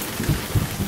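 Thunderstorm and rain sound effect: steady dense hiss of rainfall with a few low, soft rumbles of thunder pulsing underneath, no voices.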